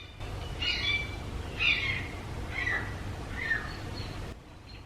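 Several birds call in short bright bursts about once a second over a steady low rumble, fairly close, during work on a brick workshop floor, with no talking.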